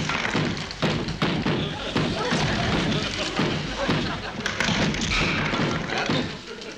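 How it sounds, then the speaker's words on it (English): Repeated heavy thuds of a man banging his head on the floor in a TV sitcom, landing as an irregular run of dull knocks over a busy, continuous background. "he was banging his head on the floor"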